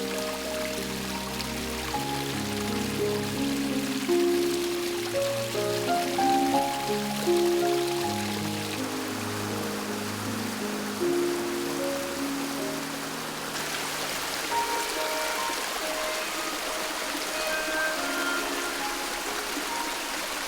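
Spring water at the Kkachisaem source of the Dongjin River trickles and babbles steadily, a soft continuous burble with faint droplet plinks over about twenty seconds, no voices present.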